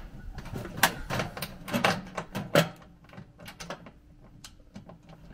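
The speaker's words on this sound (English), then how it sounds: "Make sure the wrench is going the right way. and tighten her down." Wrench tightening wind guard bolts on a Dometic stove on a Mission overland trailer, giving irregular metallic clicks and ratcheting clanks, close and fairly loud at first, then quieter and sparser.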